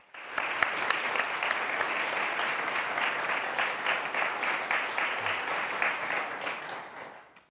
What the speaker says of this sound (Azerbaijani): Zəhranı alqışlayın